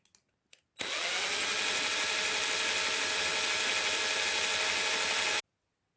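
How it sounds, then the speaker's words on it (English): An electric drill bores a 1mm pilot hole in the body of a Hornby Firth of Clyde model locomotive, giving a steady, close, high whirring whine for about four and a half seconds after a few light handling clicks. "I'm going to drill a 1mm hole in the front of the body."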